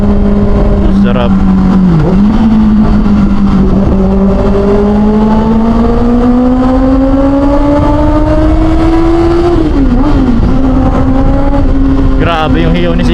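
Kawasaki ZX-6R motorcycle engine screaming at high revs on the road, a loud sustained howl rising steadily in pitch with brief dips at gear changes, close and dominant throughout.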